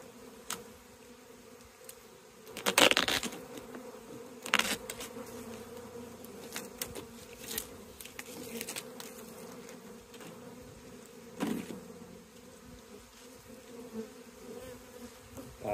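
Steady, fairly quiet honeybee buzzing hums around an open hive throughout, with a few louder close passes and soft bumps standing out against the constant drone.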